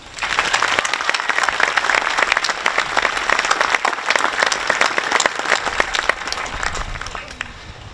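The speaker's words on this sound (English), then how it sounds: "Please join me in giving them a round of applause." Sustained, loud crowd applause at a high school commencement ceremony honors the student council and its advisors, a dense wash of many hands clapping that tapers slightly near the end.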